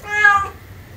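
A single clear cat meow, close and fairly loud, lasting about half a second before fading into quiet room noise.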